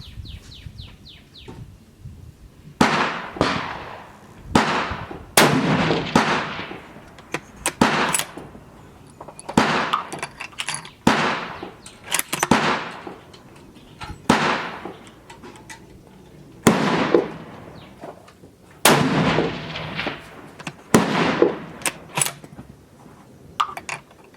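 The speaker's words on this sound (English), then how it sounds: "there's 5 shots aiming to the top of the top target" A Savage 111 Trophy Hunter XP .30-06 rifle fires on an outdoor range, each sharp crack spaced a few seconds apart and trailed by a short echo, fairly loud over a quiet background.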